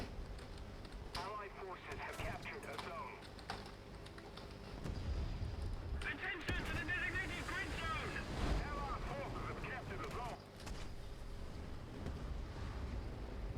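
A tank engine in the War Thunder video game, an M4A3(105) Sherman, rumbles low and steadily through the whole stretch, with a voice talking over it and a louder stretch in the second half.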